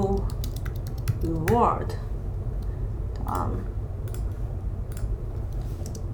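Computer keyboard and mouse in use, scattered sharp clicks and key taps under a man's speech, close and light.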